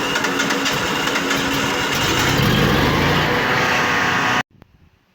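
A Generac Guardian standby generator engine runs steadily and loudly up close, with a constant even drone that cuts off abruptly near the end, leaving faint low rumble.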